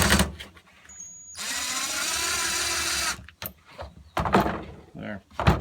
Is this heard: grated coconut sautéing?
no